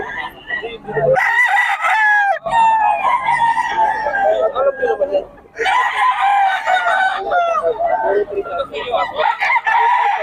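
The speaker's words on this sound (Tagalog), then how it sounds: "ang daming manok ngayon mga boss" Roosters crow repeatedly in long, strained calls, loud and close, overlapping with other fowl across the clip.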